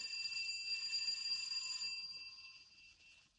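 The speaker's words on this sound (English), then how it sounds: "I'll try the bell." A faint, sustained metallic bell ring that holds steady, then slowly fades out, heard alone with no voices.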